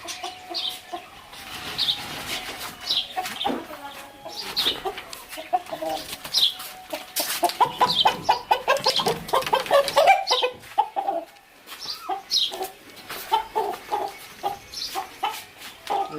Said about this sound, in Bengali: দেখুন নিচে আমাদের মুরগি আর এই যে মুরগটি অনেক বড় হয়ে গেছে